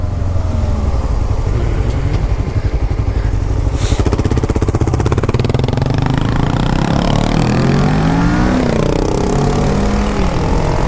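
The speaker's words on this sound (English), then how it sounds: "Anytime you're riding a new bike, you gotta find that real nice sweet spot." An entry-level sport motorcycle revs while being ridden, with a loud, close engine drone rising and falling in pitch under constant wind rush.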